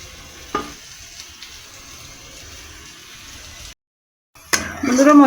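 Onion and ginger paste sautés in a pan with a steady soft sizzle and occasional stirring scrapes, briefly cutting out before louder frying returns.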